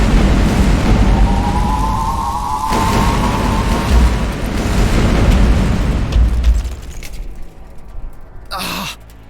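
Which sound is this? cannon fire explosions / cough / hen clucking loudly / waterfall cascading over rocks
cannon fire explosions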